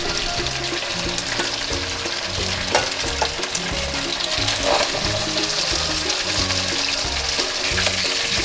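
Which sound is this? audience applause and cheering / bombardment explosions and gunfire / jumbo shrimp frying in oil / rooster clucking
jumbo shrimp frying in oil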